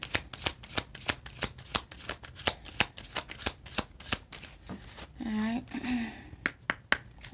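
Rapid, crisp riffling bursts of a card deck being shuffled repeatedly in close succession, with a person speaking briefly partway through.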